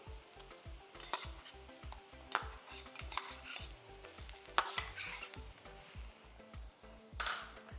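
Ginger garlic paste is stirred and sautéed with onions in a pan, soft sizzling under repeated scraping and clinks of a spoon against the vessel, close and fairly quiet, without speech.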